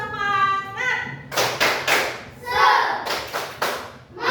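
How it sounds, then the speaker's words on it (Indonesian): Students in a classroom do a rhythmic spirit clap, sharp sets of claps and thumps in a patterned beat, after a short spoken lead-in and with voices between the clap bursts. "tepuk semangat"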